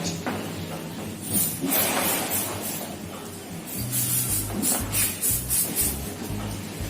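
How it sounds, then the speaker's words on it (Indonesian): Medicine sprayed onto a cow's wound on a farm: short hissing spray bursts in quick succession, close and moderately loud, with low thumping handling noises and livestock movement in the background. "Kita kasih semprot pelan-pelan ya."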